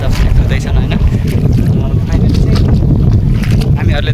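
Strong wind blows across an open rice paddy field at planting time, buffeting the microphone with a loud, continuous low rumble and gusty roar.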